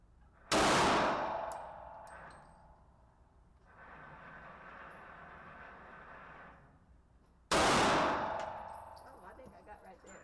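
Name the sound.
gunshots from Smith & Wesson M&P 40 pistol, .40 S&W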